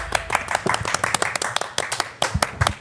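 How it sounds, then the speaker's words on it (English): A small studio audience at a golf-themed show claps to welcome a guest, a quick run of close, distinct handclaps with an uneven rhythm lasting a few seconds. "It's a little more than the golf clap."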